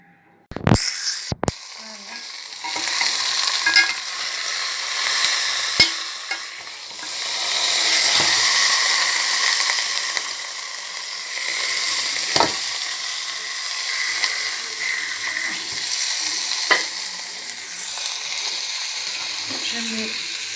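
Yellow and red peppers frying in a pan, a steady close sizzle with occasional stirring clicks and scrapes, a couple of sharp knocks at the start.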